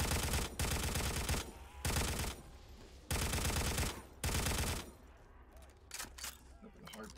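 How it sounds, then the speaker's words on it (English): Loud bursts of automatic World at War gunfire in a custom zombies video game, several long, dense volleys separated by short gaps, ending in quieter scattered noise. "Definitely aren't Black Ops 3 guns. I think it's World of War. Those guns are loud."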